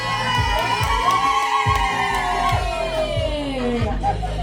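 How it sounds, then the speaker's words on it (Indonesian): An audience at a children's environmental-themed costume fashion show cheers and whoops loudly, a dense, sustained crowd roar with children shouting, steady throughout and close. "Tepuk tangan buat Bang Fuad."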